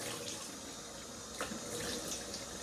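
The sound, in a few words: hot tap water running before wet shaving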